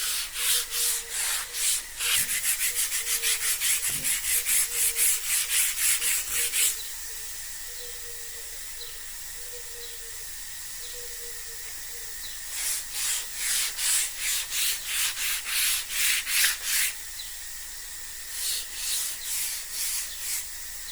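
Hand sanding stone with sandpaper: bursts of rapid back-and-forth scraping strokes, a pause of quieter hiss, then more rhythmic rubbing passes up close.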